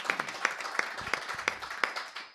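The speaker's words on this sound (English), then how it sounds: "let's give him a round of applause" Scattered claps from a small coffee house concert audience greeting photographer Tim Rice, thin and uneven with a few sharp individual hand claps over room murmur, brief and moderately quiet.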